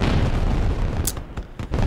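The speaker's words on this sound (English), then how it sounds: "not during the fireworks" Fireworks in an anime festival scene burst with a deep booming rumble, followed by a few sharp crackling pops over a dense crowd-like wash of sound.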